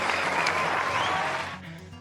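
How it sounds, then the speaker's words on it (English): An awards ceremony crowd claps steadily, a dense even wash of applause that gradually thins out toward the end. "Cue the applause."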